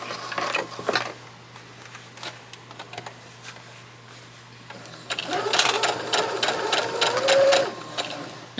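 A sewing machine stitches an apron in short bursts, slowing around curves, with a close rapid mechanical whirr that stops and restarts and grows stronger toward the end, while a person talks over it.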